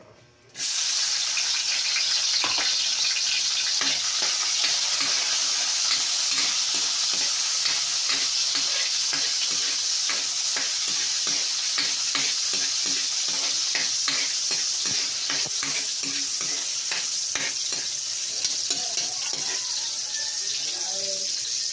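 Garlic sautés in a hot pan with a bright, steady sizzle and repeated stirring scrapes, close and continuous after a brief quiet start, as the first step of an adobong opo with chicken.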